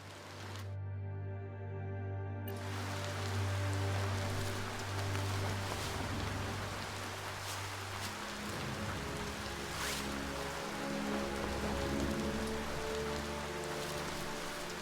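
Steady broadband rain patters across a surface in the video game Biomutant, continuous and fairly loud, with low tonal game music droning underneath and no talking.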